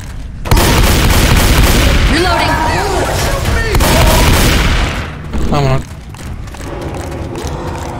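Loud close shotgun blasts and booming in Left 4 Dead 2 versus play on Dead Air, mixed with mechanical clatter, gameplay noise and a voice talking over the action.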